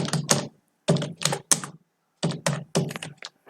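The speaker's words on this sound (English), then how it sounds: "let me type Terraform in it" Keys clatter on a computer keyboard as a command is typed into a terminal, in quick close bursts of clicks separated by short silent pauses.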